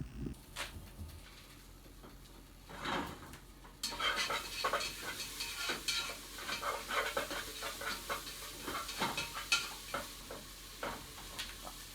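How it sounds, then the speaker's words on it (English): Cheesy eggs sizzle in a hot pan while a utensil stirs them, the steady frying hiss swelling partway through and punctuated by repeated scraping and tapping strokes against the pan. "So now what I'm going to do is I'm going to stir this whole thing up."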